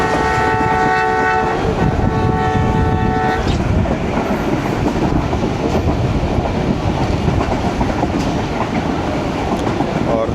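Passenger train on the Lala Musa to Lahore line running in heavy rain near a station: a loud multi-tone horn blast at the start, then steady rumbling wheels and rain noise throughout, close and continuous.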